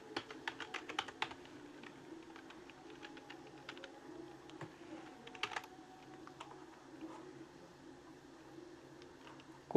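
Someone types Python game code on a computer keyboard in quiet, irregular bursts of light key clicks, with short pauses and a few quicker runs of keystrokes, and no one speaks.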